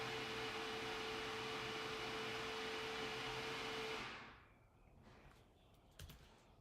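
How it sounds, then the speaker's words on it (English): A blender runs in another room with a steady, loud whirring roar for about four seconds, then cuts off, leaving faint room noise and a small bump. "Whoa! Someone's using the blender."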